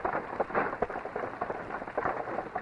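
Steady rain pours down in a film scene, a dense continuous hiss with scattered louder drops and low rumbles that may be thunder, with no talk over it.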